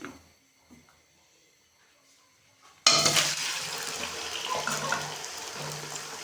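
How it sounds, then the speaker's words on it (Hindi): A sudden loud sizzle bursts out as boiled chicken drops into hot vegetable oil in a karahi, after a quiet lead-in with faint clatter, then a steady crackling fry that keeps going. "और इसमें उबला हुआ गोश्त डाल देंगे।"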